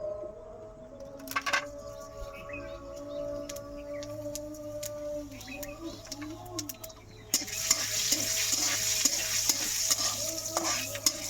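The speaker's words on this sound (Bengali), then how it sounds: "একটু ভেজে নেব, অল্প তেলেই আমি জিরেগুলো ভাজবো।" Cumin seeds frying in a little oil, starting with tonal hums and faint clinks, then a louder steady sizzle with light stirring taps, no speech.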